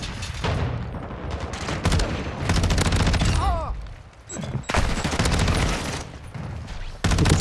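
Dense, sustained automatic gunfire from a Tempus Razorback rifle in MW2, with loud overlapping volleys and heavy thuds, broken by a brief lull before the shooting resumes.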